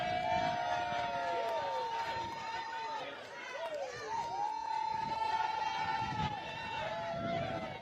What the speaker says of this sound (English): sizable crowd out there in support of Tish James outside of federal court in Norfolk, Virginia